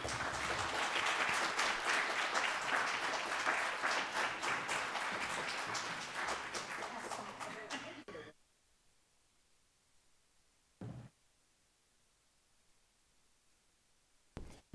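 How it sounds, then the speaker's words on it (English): An audience applauding to welcome a speaker at an education event, a dense, loud burst of clapping that holds for about eight seconds, then cuts to near silence broken by a couple of brief knocks. "Y'all clap your hands and welcome Mr. Matthew C. Caston"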